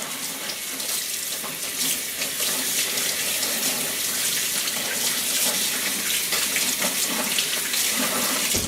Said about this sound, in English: My hands are a mess. Cool. I'm going to wash them off a little bit.